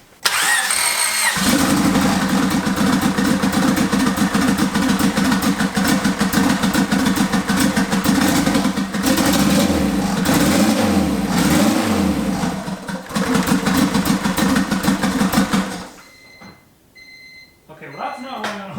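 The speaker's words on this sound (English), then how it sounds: "Okay, well that's not running on all cylinders." A triple-turbo Honda Civic engine cranks, catches and idles roughly, loud and close with an uneven, lumpy pulse and wavering revs that suggest a misfire, before cutting out to near silence as a voice speaks briefly afterward.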